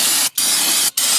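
Spray cleaner hissing off dirt on a BMW 3 Series front brake, two loud steady bursts each lasting about half a second with a brief gap between them, close and alone.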